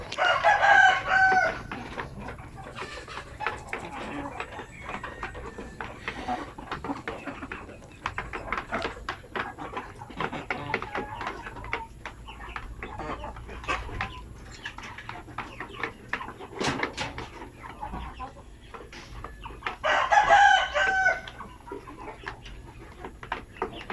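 Basilan native chickens, a pure-breed Zampen type, crow loudly and nearby at the start and again near the end, with scattered clucking and general yard noise in between.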